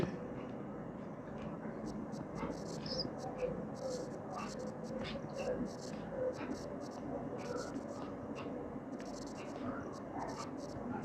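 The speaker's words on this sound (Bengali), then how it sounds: "চলো লিখে ফেলি।" A pen scratches across paper in short, quick strokes during an accounts lesson, faint and close, with a low murmuring voice underneath.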